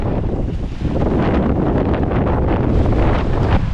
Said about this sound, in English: wind is still with us, but this second cell, we might get the top of our heads wet